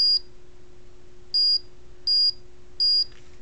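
Four short electronic beeps at an even pace from a 555 timer buzzer circuit, loud and piercing, over a faint steady hum.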